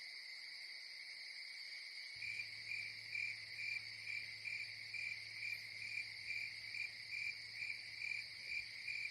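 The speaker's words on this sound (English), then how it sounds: "Oh, I love the crickets." Crickets chirping at night, a dense continuous high trill in steady pulsing rhythm, joined after a couple of seconds by a low steady hum beneath it.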